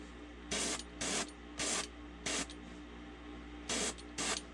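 An airbrush sprays pearl copper paint through a stencil onto the gill of a fishing lure in six short, close hissing bursts separated by quiet pauses.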